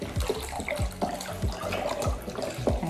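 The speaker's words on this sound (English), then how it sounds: "chicken broth to pour" Chicken broth pours from a carton into a cooking pot for tortilla soup, a close, steady glugging stream with rhythmic bubbling pulses.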